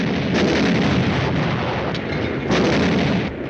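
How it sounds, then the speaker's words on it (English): Heavy artillery fire in a 1951 World War II tank combat film set in France, with loud, deep, rumbling blasts that roll into one another and two stronger bursts near the start and middle. "The artillery zeroed in on us."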